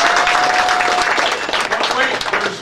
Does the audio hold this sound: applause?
yes